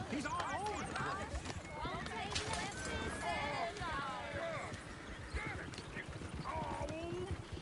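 Hooves of horses pulling a coach in the video game Red Dead Redemption 2 clip-clop in a steady, fast rhythm, close and prominent, with voices talking over them and an occasional whinny.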